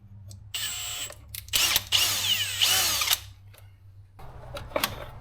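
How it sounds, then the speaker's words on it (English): Power drill boring out a bolt during a relay install on a Ram 3500 diesel truck, whining in several loud bursts of varying pitch with brief pauses between them, up close and with no talking. "now that we got the bolt for the relay drilled out"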